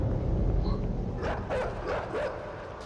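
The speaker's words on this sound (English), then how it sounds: "Oh, those are dogs." A pack of dogs in the side-scrolling game Inside barks in a run of four or five sharp yips and barks over a rumbling ambient background.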